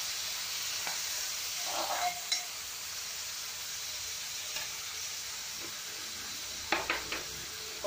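Onions frying in oil, a steady sizzle with a few faint stirring clicks and scrapes, fairly quiet and close.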